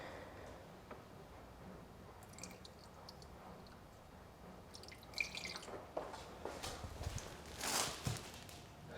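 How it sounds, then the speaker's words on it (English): Water poured into a broken, busted radiator of a wrecked Toyota Tacoma drips and splashes out the bottom in a faint, irregular patter, growing a little busier toward the end. "I'm gonna pour it in here and you'll see how the water just drips straight out to the bottom."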